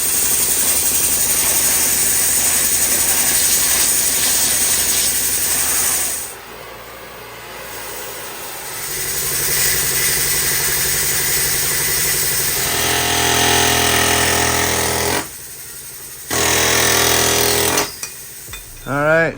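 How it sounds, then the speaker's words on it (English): Power drill boring out worn suspension shackles on a vehicle before new bushings go in, a loud continuous grinding whir that drops out briefly several times before resuming. "So we're gonna drill those shackles out, push these new bushings in here"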